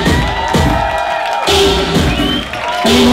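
An audience cheers and whoops at a beginners' dance performance: loud, dense crowd noise with shouts and bangs that swells, dips briefly, then rises again, along with sustained music tones.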